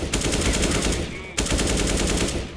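Rapid automatic gunfire from Counter-Strike: Global Offensive, loud, close and continuous, with a brief break near the middle before the burst resumes.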